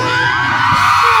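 Audience at a band concert in Hong Kong letting out a loud burst of cheering and shouting, a brief, dense roar of yells that fills the moment.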